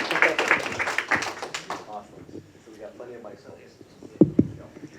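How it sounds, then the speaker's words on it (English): An audience at a Singapore venture day panel gives the moderator a burst of clapping that fades out within two seconds, followed by talk and a few sharp knocks. "Give him a round of applause"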